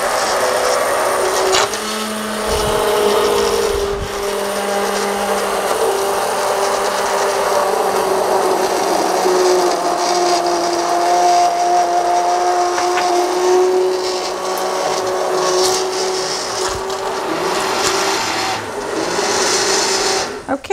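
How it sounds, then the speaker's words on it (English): A blender purees chopped carrots into soup, a steady continuous whirring motor drone held close and loud for around twenty seconds, with no talking. "So I'm going to blend it a little more"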